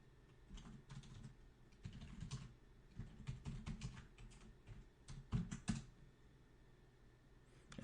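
Someone typing a password command on a computer keyboard, bursts of quick key clicks with short pauses between, soft and close, heard alone.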